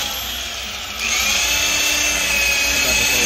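A power polisher buffs a sanded car body panel during a bodywork restoration, a steady high-pitched whirring hum that grows louder and stronger after the first second and then holds continuously.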